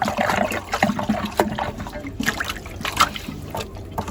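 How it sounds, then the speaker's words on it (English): Water draining from the plug of a Pentair PLD70 pool filter tank, an uneven splashing trickle with irregular gurgles and bursts, close and moderately loud throughout. "pull this plug here, drain that out"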